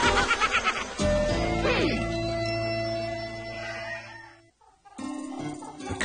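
Cartoon chickens cluck and crow in a barnyard scene, short bird calls mixed in with background music and a voice.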